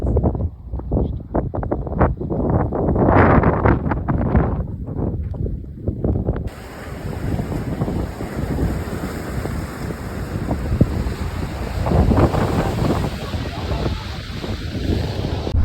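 Ocean waves crash against rocky shoreline in a national park in Aruba, a rolling, rumbling surf with surging peaks, heavily buffeted by wind noise on the microphone and lasting the whole stretch.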